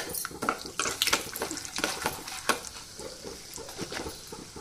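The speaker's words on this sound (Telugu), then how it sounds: "ఆయిల్ కాగింది, ఫస్ట్ పల్లీలు వేస్తాము" Peanuts and lentils crackle in hot oil, with stirring and scraping over the sizzle in quick irregular bursts at moderate loudness.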